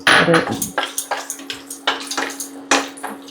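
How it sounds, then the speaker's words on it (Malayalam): Dry nuts roast in ghee in a pan while a metal spoon stirs them. The spoon makes a quick run of about a dozen sharp scraping clacks against the pan, close and fairly loud, and there is no talk. "ആദ്യം നമുക്ക് ഈ ഡ്രൈ നട്ട്സ് ഒക്കെ വറുത്തെടുക്കാം"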